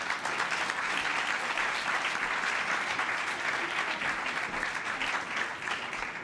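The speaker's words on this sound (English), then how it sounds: "Please join me in another round of applause for our two governors, Kate Brown and Jay Inslee." An audience at a university event on climate and clean energy policy applauds two state governors, a steady, dense wash of clapping that holds evenly from start to finish with no voices over it.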